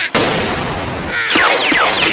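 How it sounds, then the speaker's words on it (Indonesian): A loud, sharp pistol shot opens abruptly in the One Piece anime, followed by sustained noisy rumble and whooshing streaks amid chaotic action effects. "Nero menggunakan pistol pada bagian belakang Franky"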